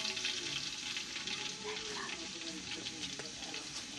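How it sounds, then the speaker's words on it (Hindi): Garlic sizzling in a pan while chicken biryani is cooked, a close steady frying hiss with light stirring and some watery clatter, faint voice-like sounds in the background. "अब लहसुन हम लोग डाल रहे हैं इसमें"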